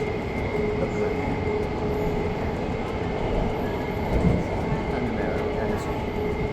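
Singapore metro train in motion, a continuous rumbling ride with steady wheel and motor noise and a faint tonal whine, heard from inside the carriage.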